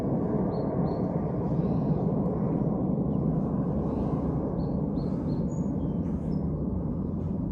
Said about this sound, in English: It wouldn't be a video without a plane, baby.